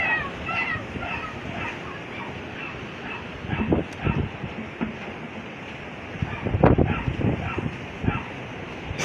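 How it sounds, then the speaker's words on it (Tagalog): Strong typhoon wind roaring during the landfall of Typhoon Kammuri in Northern Samar, Philippines, a steady rushing gust noise with louder surges, while a person speaks over it. "naririnig nyo ba yung hangin?"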